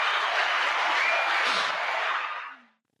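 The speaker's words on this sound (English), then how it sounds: "And the crowd goes, yeah." Cheering crowd sound effect: a dense, bright wash of roaring crowd noise held steadily for over two seconds before fading out quickly into silence.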